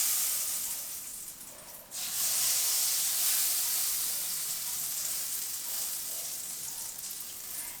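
Melted butter hitting a pan preheated for three minutes, a loud hissing sizzle that dips briefly and then surges back strong before slowly easing off, no voices.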